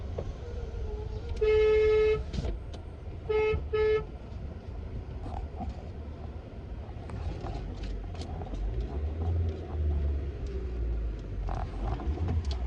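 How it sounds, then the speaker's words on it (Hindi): A vehicle horn toots twice in short bursts, first a longer blare then a quick double honk, close and loud over a steady engine rumble of a car climbing a hill road. "छुआटी हॉर्न बजा तो"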